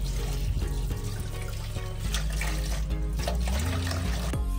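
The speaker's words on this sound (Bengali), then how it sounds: "এই পর্যায়ে আমরা মাছগুলোকে সুন্দর মতো আঁশ ছাড়িয়ে ধুয়ে নিব" Scaled rohu fish are washed under running water in a sink, a steady splashing flow with shifting tones and a low hum underneath; nobody talks.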